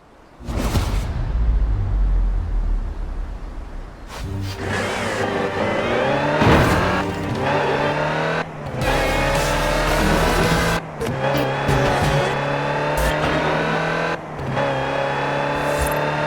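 Land Rover Type 3 in Forza Horizon 4, its engine droning and revving loudly and steadily with gear-change dips and some tire noise, alone for about sixteen seconds.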